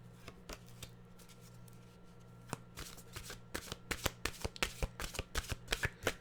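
A deck of mantra cards shuffled by hand indoors, starting as soft, sparse riffles and building into a steady run of crisp, close flutters and snaps, with no talking.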